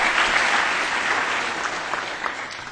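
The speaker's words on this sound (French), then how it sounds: "Je vous demanderai de l'applaudir afin de lui souhaiter la bienvenue." Audience applause welcoming a newly introduced speaker at the European Youth Event, a dense, steady burst of clapping that carries on throughout, with no talk over it.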